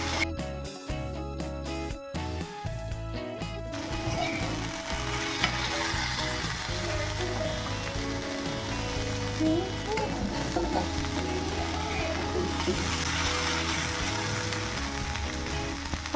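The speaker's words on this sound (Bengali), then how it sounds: "আর এখানে করছি যে চিচিঙে আলু আর পেঁয়াজ দিয়ে একটা ভাজা বানাচ্ছি।" Snake gourd, potato and onion fry in a pan in a home kitchen, a steady close sizzle with scraping and stirring clatter, sharp utensil knocks in the first few seconds, no voices.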